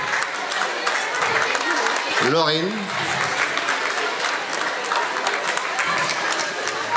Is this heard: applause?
yes